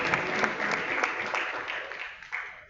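Audience applause at a film festival awards ceremony, a dense, continuous round of clapping from a sizeable crowd, loud and steady then thinning slightly toward the end.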